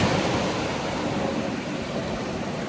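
Atlantic surf breaking against a rocky shore in Portugal, a loud, continuous broadband roar that rises and falls only slightly, close by and with no voices.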